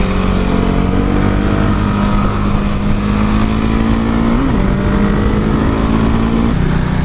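A Husqvarna 701 Supermoto motorcycle engine drones continuously while revving, with a sustained tonal hum that briefly wavers near the end, loud and close, with no talking.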